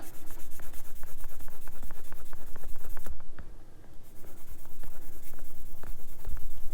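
Rapid, rhythmic scratchy rubbing of an abrasive over a seam line on a small Tamiya LaFerrari plastic model part, close and steady, with a brief pause midway before the strokes resume.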